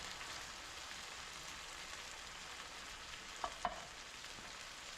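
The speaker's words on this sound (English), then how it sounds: "Bring in the tomato sauce." Tomato sauce pours into a pot of simmering chili, a steady broadband sizzle and wet hiss throughout, with two brief sharp clinks near the end; no voices.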